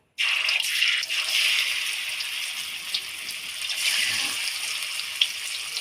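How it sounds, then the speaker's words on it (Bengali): Vegetable pieces fry lightly in oil in a wok during a spinach recipe, giving a steady, bright sizzling hiss that starts abruptly and continues close up without pause. "এগুলো ভেজে নেবো হালকা করে করে"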